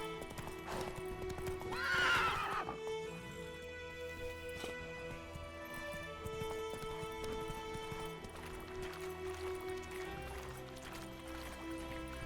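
Horse in The Witcher 3 video game neighing once near the start, then steady clip-clop hoofbeats carrying on at a gallop, moderately close against a quiet game soundscape.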